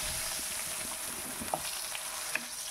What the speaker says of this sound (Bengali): আলুগুলোকেও আমি ভেজে নিচ্ছি